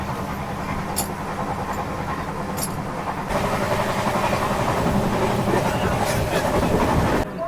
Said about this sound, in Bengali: আমাদের ট্রেনগুলো ভালো স্পিডে টানছে